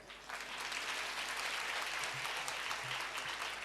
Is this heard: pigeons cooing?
no